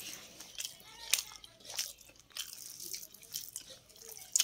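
Food being bitten and chewed up close, with a few crisp crunchy bites and soft wet mouth sounds spread over a few seconds, fairly quiet and with no talking.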